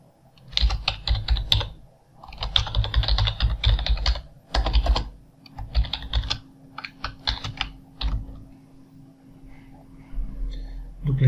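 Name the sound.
typing on a computer keyboard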